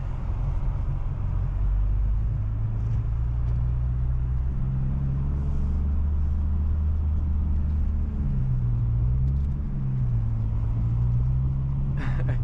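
Ford Focus ST crawling through deep snow in first gear on snow tires, a steady loud low engine drone with shifting rumble throughout, no voices.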